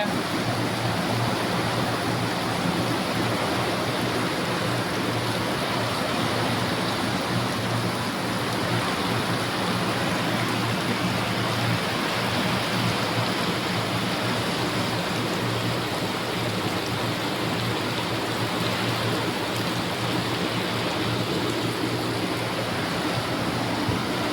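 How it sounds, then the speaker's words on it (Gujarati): Heavy rain pours down in Ahmedabad amid strong wind, a dense, constant roar of falling water and runoff that fills the whole scene loudly and evenly, with no voices. "ભારે વરસાદ છે."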